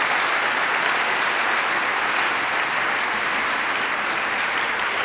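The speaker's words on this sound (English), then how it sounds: "one more time, giving them all an applause for their" A symposium audience gives a long, even round of applause, thick continuous clapping at steady loudness with no voices over it.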